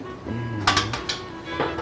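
Metal clatters and clanks briefly as a pan is handled, a few sharp knocks in quick succession in a quiet kitchen.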